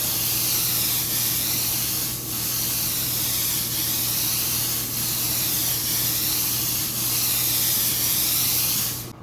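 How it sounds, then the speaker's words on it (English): An airbrush sprays paint in a loud, continuous hiss, briefly dipping and resuming in a few pulses as the trigger is eased and pressed again. "I've got the airbrush angled at about 45 degrees, spraying up"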